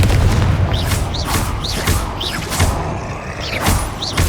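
Confringo fire-spell blasts in Hogwarts Legacy: a string of about eight heavy booming explosions, roughly every half second, each with a short whooshing tail, loud and close over a rumbling game backdrop.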